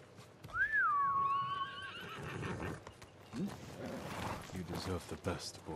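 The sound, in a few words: horse neighing in the video game Ghost of Tsushima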